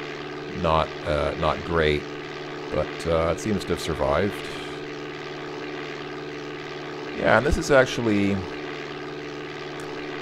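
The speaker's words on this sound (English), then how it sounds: "it's a World War I plane, so it's not particularly fast" A World War I propeller plane in a DOSBox flight game gives off a steady, low engine drone that holds for the whole stretch. It sits under someone talking in several short bursts.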